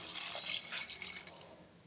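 Water trickles and splashes steadily into a pot of mutton gravy, a continuous liquid pouring sound with soft dripping textures, close by and moderately quiet.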